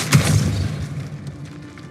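A Depulso force spell lands in Hogwarts Legacy as a single short, dull thump right at the start, followed by a decaying low rumble and faint game ambience.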